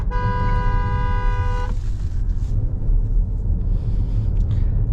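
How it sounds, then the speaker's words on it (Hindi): A Volvo XC90 B5 AWD sounds its horn in one loud, sustained honk of under two seconds over steady road and tyre rumble from low-profile tyres, then driving noise continues alone. "और हॉर्न भी सुन लिया आपने, अच्छा है तेज़"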